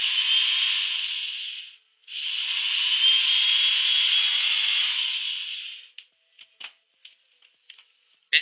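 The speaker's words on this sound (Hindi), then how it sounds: "ये ड्रिल मशीन बहुत ही अच्छे तरीके से काम कर रहा है" An electric drill powered by a DIY 220V portable battery power station whirs steadily, stopping briefly and restarting, then gives way to a string of short clicks and knocks.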